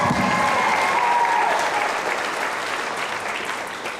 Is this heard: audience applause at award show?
yes